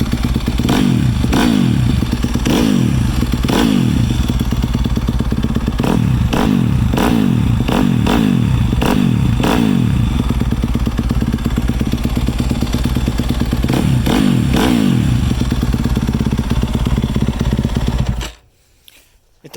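A loud 2019 Yamaha YZ250F dirt bike with an FMF 4.1 aftermarket exhaust idles and revs repeatedly in sharp bursts, its raspy exhaust close and continuous before cutting off abruptly near the end.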